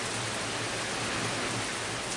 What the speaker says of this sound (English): Man, oh man, is it ever raining.